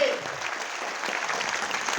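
An audience at a success-story talk breaks into loud applause, a dense and steady clatter of clapping close by that fills the whole moment, with faint voices under it.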